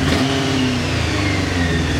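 A Honda CBF 600 motorcycle engine during carburettor syncing, its revs hanging high and falling only slowly, a loud, close, continuous droning hum with steady harmonic tones and no speech.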